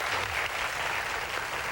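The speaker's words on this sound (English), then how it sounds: "A round of applause" A television studio audience applauds during a talk show interview, a thick, even roar of clapping that holds steady throughout with no voices over it.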